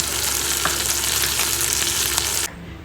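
Drumstick (moringa pod) fry sizzling steadily in a pan with ground coconut spice powder mixed in, a continuous loud crackle with a few stirring scrapes, cutting off abruptly near the end.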